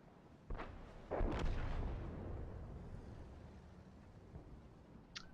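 In a tank battle video game, a heavy cannon shot booms out, followed by a second, louder blast as a shell strikes home, its deep rumble slowly decaying, with a faint metallic ping near the end.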